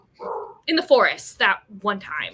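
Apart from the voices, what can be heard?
dog barking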